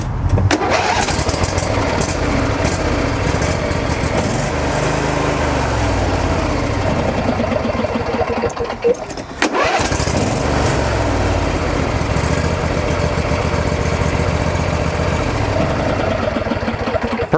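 A lawn tractor engine that had trouble cranking over turns over and fires up, then runs loud and steady close by, with a brief dip in the middle before it keeps running.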